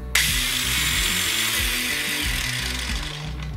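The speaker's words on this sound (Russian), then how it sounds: "Как можете заметить, плавного пуска у болгарки нет." A DEKO DKAG20-125 cordless angle grinder starting abruptly with no soft start and jumping straight to a loud, steady high-speed whine with a rough mechanical rattle, heard alone and up close.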